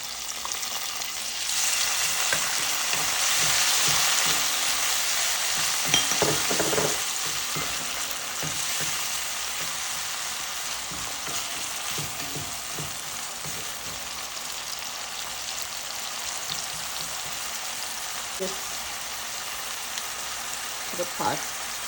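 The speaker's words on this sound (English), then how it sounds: "Now I'm gonna go in with my pepper and thyme. Saute that just a little bit" Bell pepper and thyme sauté in a hot pan with tomato, giving a steady bright sizzle with occasional stirring scrapes and knocks throughout.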